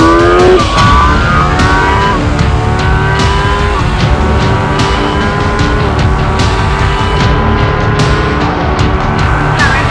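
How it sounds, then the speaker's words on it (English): A 2016 Kawasaki Ninja ZX10R Winter Edition sportbike revs hard at high rpm, its rising engine note broken by quick-shifter upshifts that stack in repeated climbing sweeps, loud and close for the full stretch. "And in higher revs, the quick shifter, it works seamlessly."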